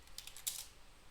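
A few quick, faint keystrokes on a computer keyboard tap out in a short cluster, alone in a quiet room.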